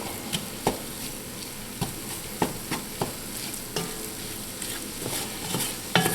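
Swamp rabbit gravy simmering in a pan, a steady low sizzle with scattered sharp clinks and stirring scrapes of a utensil against the pan, close and continuous with no talking.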